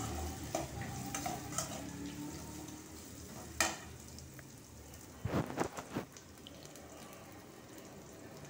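Asafoetida sizzling in hot oil for tamalapaku pappu, a faint steady crackle with scattered small pops and a couple of louder clatters.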